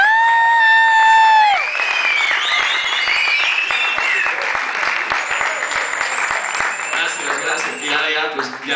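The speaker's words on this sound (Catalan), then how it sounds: "un aplaudiment" An audience at a live concert applauds, with cheers and whoops, after a sustained guitar note fades; the clapping is dense and close for several seconds.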